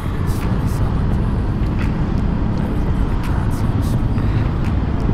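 Dense roadway traffic roars steadily in a jam at Pasar Rubuh Alung on the Trans-Sumatra road at night, with broadband engine and road noise and brief hissing bursts from passing vehicles, all close and constant.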